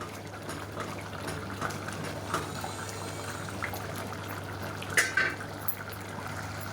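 Mushroom biryani mixture with masala simmering in a pot, a soft steady bubbling at low level with faint clinks and a brief louder bump near the end.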